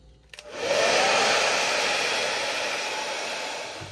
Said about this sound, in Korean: 제가 급하게 드라이기로 말렸는데